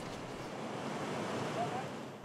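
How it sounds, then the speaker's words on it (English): White water rushes down Cataract Gorge in Tasmania during a canoe club event in wild flood conditions, a loud, steady, broadband roar that continues without a break. "enough water to fill an Olympic-sized swimming pool was sent gushing down the gorge every minute and a half"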